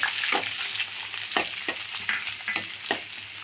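Chopped onion fries in about one and a half tablespoons of coconut oil for a dal and cauliflower curry, giving a steady close sizzle broken by several sharp scraping stirs.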